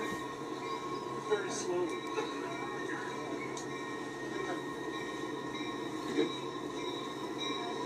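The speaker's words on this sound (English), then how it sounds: "They're waiting for the train to pass." A train rolls past at a steady rumble with wheel squeal and metallic rattling, moderately close, while someone speaks briefly over it.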